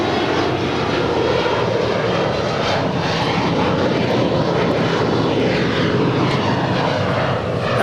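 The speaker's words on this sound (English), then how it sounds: "That was Alaska SkyWest 3373 departing to Santa Rosa on an Embraer E175LR." An Alaska SkyWest Embraer E175LR jet departing LAX, its loud continuous engine roar steady and close for the whole stretch, with no speech heard.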